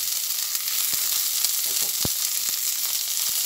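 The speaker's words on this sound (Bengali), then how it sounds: "নাড়াচাড়া করে ভেজে নিচ্ছি। ফুলকপিগুলো ভাজা হতে হতেই আমি এর মধ্যে যে ক্যাপসিকামটা কেটে রেখেছি সেটাও দিয়ে দিলাম।" Cauliflower and capsicum frying in a pan give a steady, bright sizzle, with a few sharp clicks and scrapes from stirring.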